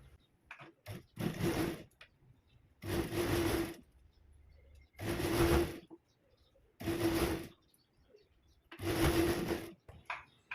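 A sewing machine runs in five separate bursts of stitching along the hem of a kurti, each about a second long, with short pauses between them. The bursts sound close and fairly loud.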